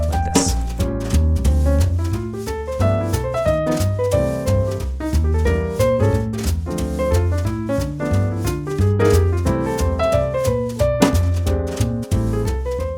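A bebop jazz line, eight measures over a ii-V-I progression, played as a steady run of single notes over bass and chords, loud and continuous.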